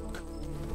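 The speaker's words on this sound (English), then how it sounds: "2 of the bees decide to fly away" Bees hover around a flower, giving a steady close buzzing hum with a brief louder burst at the end.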